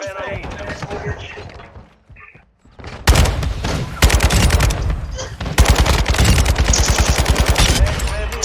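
Automatic weapon fire in a Call of Duty: Modern Warfare II match, loud rapid bursts of shots close up, with a short lull before dense sustained volleys resume; a voice talks briefly over it.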